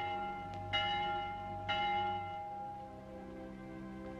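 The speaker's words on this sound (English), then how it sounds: "The Vespers bell." A church bell rings for vespers, two resonant strikes ringing out with long humming decay under a soft, low ambient bed.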